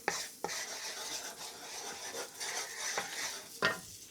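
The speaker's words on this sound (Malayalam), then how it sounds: "ഈ ഓയിൽ ഫ്രൈ ആവുന്ന കൂട്ടത്തിൽ നമ്മൾ ഒരല്പം മഞ്ഞൾപ്പൊടി ചേർത്ത് ജസ്റ്റ് ഒന്ന് ഫ്രൈ ചെയ്തെടുക്കുകയാണ്" Turmeric powder briefly frying in hot oil in a pan for restaurant-style butter chicken, giving a soft steady sizzle broken by a few sharp spoon scrapes and stirs, close and fairly quiet.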